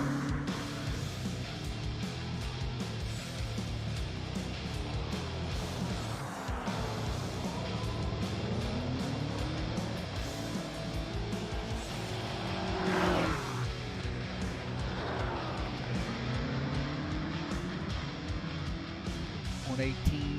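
A BMW GT3 race car in a racing video game laps the Adelaide Street Circuit, its engine droning with rising and falling pitch sweeps through gear changes and corners, with tire noise, under continuous commentary.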